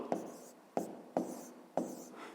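A pen or chalk writes out an arithmetic sum by hand, four crisp taps or strokes spaced about half a second apart, each followed by a short scratchy scrawl, close and quiet.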